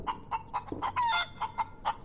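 Chicken in the video game Breathedge, a rhythmic series of about nine sharp clucks spaced evenly, with one longer drawn-out squawk in the middle, close and clear with no talking.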